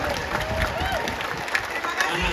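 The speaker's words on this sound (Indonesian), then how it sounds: "Kita kasih tepuk tangan sekali lagi, Mas Anies Baswedan." A university campus audience at UGM applauds Anies Baswedan, presidential candidate of the Koalisi Perubahan dan Persatuan, with steady loud clapping and crowd noise filling the hall throughout.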